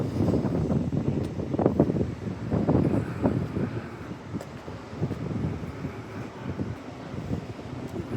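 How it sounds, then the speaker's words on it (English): Steady northwest wind gusting through downtown Halifax up above Water Street, a continuous low rushing roar with buffeting surges across the whole stretch, no talking. "There's a lot of wind up here."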